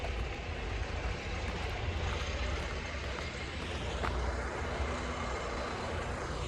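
A tractor engine runs nearby at a wild campsite out in nature, giving a steady low droning rumble that continues evenly throughout at moderate volume.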